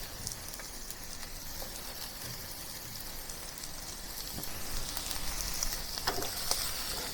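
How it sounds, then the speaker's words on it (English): Shrimp pan-frying over medium heat for a clay pot with glass noodles, giving a steady, fairly quiet sizzle with scattered pops and spits that grows slightly louder toward the end, with no voices. "what I'm going to do is to pan fry the shrimp so that to give it a little extra flavor"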